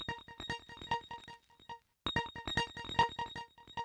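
Short, dry synth notes pulse in a quick staccato rhythm, with a brief silence midway before the pattern resumes; no echo trails behind them.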